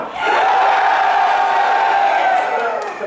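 A big convention audience at an opening ceremony erupts in a loud, sustained cheer for a team, swelling quickly and holding with whoops and shouts throughout.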